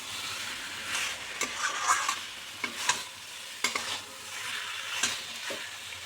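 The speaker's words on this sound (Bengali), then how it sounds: "মোচাটা দিয়ে আর একটু নেড়ে চেড়ে নেব" Boiled banana flower and fried potatoes get stirred in a frying pan, a gentle sizzle under several distinct scraping strokes of the spatula, close and fairly quiet with no talking.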